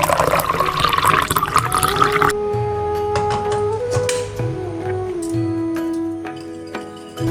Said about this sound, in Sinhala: ඊළඟට මද රස්නේ වතුර අඬු කොප්ප කාලක් විතර මම මේකට එකතු කරගන්නවා